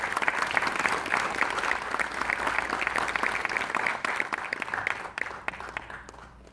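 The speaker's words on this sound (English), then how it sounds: "Please join me in a round of applause." An evening lecture audience gives a round of applause to welcome the speaker, a dense, steady clapping that stays loud and fades toward the end, with no talk over it.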